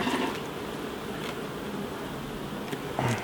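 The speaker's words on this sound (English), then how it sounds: "Oh, they're lovely, these bees." Steady buzzing of many honey bees close by around a hive, a continuous hum with a few individual insects flying near the listener.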